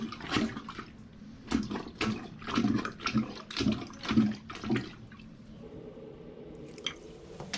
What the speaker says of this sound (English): Then I use a plunger to plunge out any of the water that's in the bowl